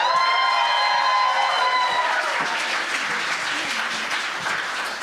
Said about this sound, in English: Please put your hands together for Sowmiya.